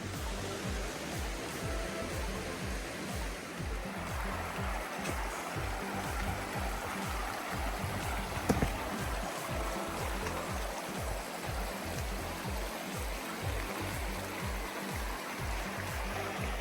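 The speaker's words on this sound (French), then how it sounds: "La rivière est de retour." Fall Creek flows through a lush forest on the Fall Creek loop trail in Felton, a steady, full rush of running water that stays close and constant throughout with no voices.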